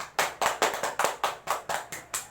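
A small group clapping in a classroom during a microteaching lesson, about a dozen distinct, evenly spaced claps in a quick steady rhythm, close and crisp with no talking.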